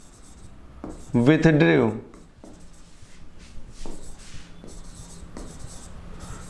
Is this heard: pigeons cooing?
no